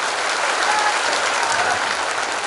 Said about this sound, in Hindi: सभी से आग्रह है ताली बजा के उनका